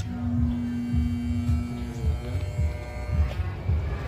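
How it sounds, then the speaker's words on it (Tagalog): A Condura air conditioner's compressor, with the thermostat set to its coldest, hums steadily near the mic, starting up and then cutting out soon after, leaving a low mains-like drone with faint mechanical rattles. "naririnig nyo na umaandar yung compressor natin, pero namamatay din siya agad"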